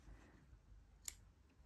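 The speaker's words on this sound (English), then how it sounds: "Just gonna fasten off, cut the yarn" Scissors make a single quick, faint snip through knitting yarn while a sleeve seam is fastened off, a brief click against quiet room noise.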